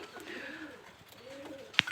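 Neeldumba pigeons at a loft cooing in low, rolling phrases that rise and fall, a couple of overlapping birds, ending with a short sharp click or chirp.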